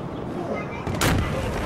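A rocket sniper shot fires in a video game, a single sharp boom bursting out near the one-second mark and decaying into a rumble over steady game background noise.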